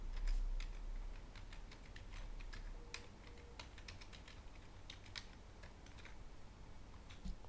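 A password being typed on a computer keyboard, quick irregular runs of light key clicks close by, fairly quiet and without talk.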